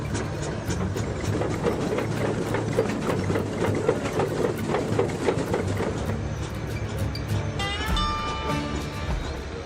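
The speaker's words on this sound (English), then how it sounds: "Don Hunter dedicated 9 years to building a life-size replica of the first steam-powered Caterpillar tractor" A life-size replica of the first Holt steam-powered Caterpillar tractor runs with a rapid, rhythmic chuffing and clanking mechanical beat, steady and close, ending with a brief higher whistle-like tone near the end.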